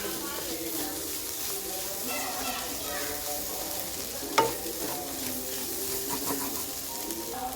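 Spice powders are sautéed in a pan for Alfredo chicken pasta, with a soft continuous sizzle and repeated spatula scrapes plus one sharp clink, heard close and moderately loud while a voice talks over it.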